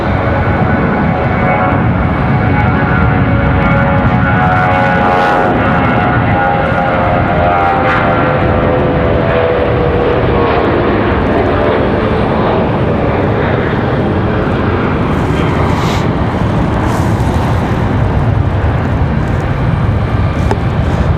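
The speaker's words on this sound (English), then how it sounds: "Got an American 737-800 sitting out at the end of the runway holding short." An American Airlines Boeing 737-800 jet rolls along the runway at Raleigh-Durham airport, its engines giving a loud, steady, broadband roar with a slowly shifting whine that stays constant throughout.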